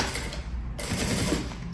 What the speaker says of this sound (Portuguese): vou passar uma costura de cada lado